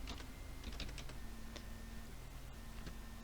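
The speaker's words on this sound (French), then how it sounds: "on va taper au clavier recette" Typing on a computer keyboard in a quiet room: several quick bursts of key clicks, then scattered single taps over a low steady hum, with no talk.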